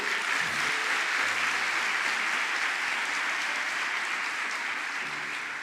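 A church congregation claps in praise, a continuous, fairly even wash of applause that fills the room and fades slightly toward the end.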